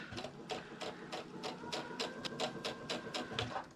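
A sewing machine runs a basting stitch on knit fabric, a faint, rapid rhythmic clatter of needle strokes repeating evenly at close range without talk.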